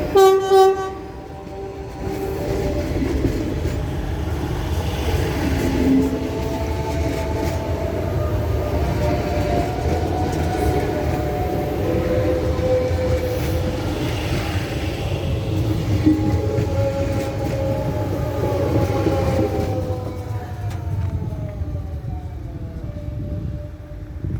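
A train pulls away from La Molina station with a loud horn at the start, then a steady rumble of wheels and engine. Harmonic tones rise and fall throughout as the train rolls on nearby.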